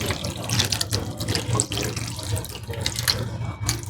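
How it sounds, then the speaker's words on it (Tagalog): Tap water runs steadily into a cooking pot being filled for a home-cooked noodle and vegetable dish, a close, continuous gushing splash with small ripples in tone. "Lagyan natin ng tubig guys."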